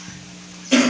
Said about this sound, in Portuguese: Os irmãos me perdoem pelas tosses.